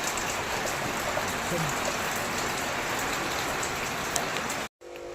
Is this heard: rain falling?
yes